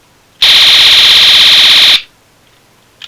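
A toy blaster gives its slow alarm-siren sound effect: one loud, steady electronic wail lasting about a second and a half, which cuts off abruptly and leaves near silence.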